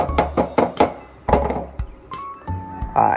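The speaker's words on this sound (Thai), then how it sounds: "เคาะสเก็ตออกครับ เคาะออกให้หมดเลยนะครับ" Hammer knocking welding slag off a freshly welded steel eel spear, several sharp metallic taps in an uneven rhythm, close and loud, with short gaps between strikes.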